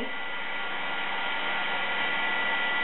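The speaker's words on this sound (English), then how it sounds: "hit it with the heat gun as well, just to make sure it's good and dry" A heat gun blowing hot air to dry cardstock, a steady close whirring roar that runs the whole time without a break.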